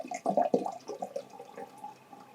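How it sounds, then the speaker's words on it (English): Blix film-processing chemical is poured into a film developing tank, making soft, faint splashing and gurgling that trails off, with no talking. "Carefully pour the Blix."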